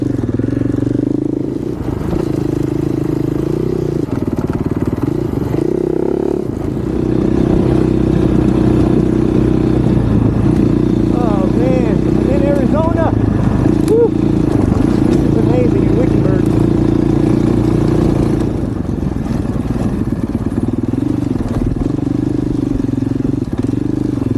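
A 450 dirt bike rides across rough Arizona desert terrain, its engine droning loud and steady and rising and falling with throttle, while people talk over it.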